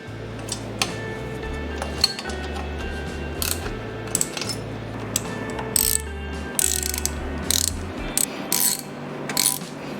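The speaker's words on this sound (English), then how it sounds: "let's do our first round of tightening." A ratchet tightens the bolts of an engine intake manifold over a new gasket, giving repeated rapid clicking strokes in steady bursts, with occasional sharper metallic taps and clinks close by.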